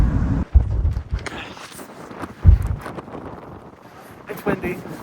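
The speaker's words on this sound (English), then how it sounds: "It's windy. Very. The volume won't be good" Outdoor wind buffets the microphone at Yellowstone National Park, with low, gusty rumbles rising and falling in uneven bursts and a couple of stronger thumps.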